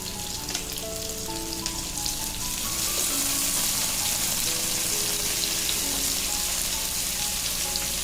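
Tomato pieces fry in hot oil with onions and quail for a keto Saudi kabsa, giving a steady, close, dense sizzle with a constant crackling hiss throughout.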